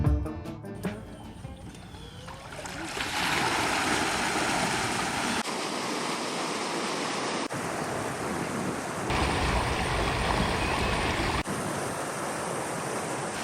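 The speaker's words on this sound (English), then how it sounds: "Only the sound of flowing water, ensuring a tranquil and peaceful ride." Steady rushing water fills the clip, a broad continuous wash close by with no engine noise from the quiet 2024 Electric Laker 712 electric boat, shifting slightly in texture every few seconds.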